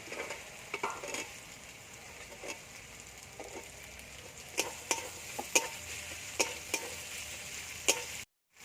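Onion and fried garlic cooking in a pan for a chicken curry, a soft continuous sizzle broken by scattered scraping taps from stirring, with no voices.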